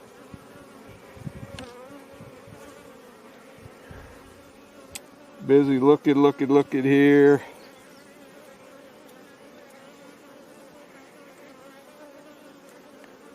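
Honeybees hum steadily around an open hive during a brood-frame inspection, with one bee buzzing loudly and close for about two seconds midway before fading back into the low, constant drone; a person speaks briefly.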